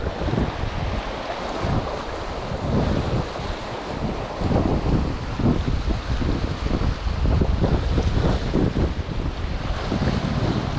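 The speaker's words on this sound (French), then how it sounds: "il y a tellement de vent dans la bannière" Strong seaside wind buffets the microphone in a constant loud roar during shore fishing, with waves and surf rushing underneath and no voices.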